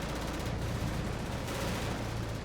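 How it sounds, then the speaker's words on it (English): Bf 109 fighters fire 20mm cannons in the Victory at Sea Atlantic video game, a dense, continuous rattling burst of gunfire holding steady throughout. "20mm cannons on the"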